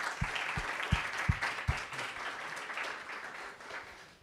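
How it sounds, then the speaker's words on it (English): Applause from a conference audience at a society and AI event, a steady wash of many hands clapping throughout at moderate loudness, with a few sharp low thumps near the start. "And I think with this, first up, another round of applause for Devonsh."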